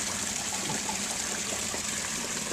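Steady splashing of a small waterfall into a pond at night, a constant close trickle and gush with no voices.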